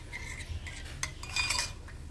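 Egg and chili paste mixture being stirred for a low-carb omelette, a utensil scraping and clinking against a bowl in quick, close strokes with no talking.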